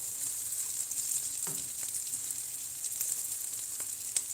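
Onions frying in a pan for an onion and egg dish, a steady, bright sizzle that carries on without a break, with a few faint clinks and stirring scrapes from the pan.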